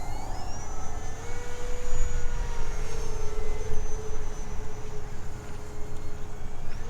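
A Durafly 1100mm 4S Spitfire RC model plane flies overhead on an early morning maiden flight, its electric motor giving a steady whining drone with shifting pitch over a noisy outdoor background.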